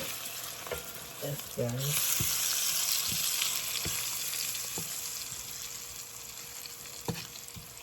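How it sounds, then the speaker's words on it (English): Curry powder frying in hot oil for a Jamaican shrimp curry, a steady loud sizzle throughout with occasional clinks and stirring knocks, and a short stretch of speech early on. "So I'm going to burn the curry in the oil."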